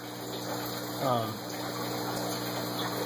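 Water flows steadily into a tank fitted with an ABS bell siphon, a continuous close trickling rush with a short voice partway through.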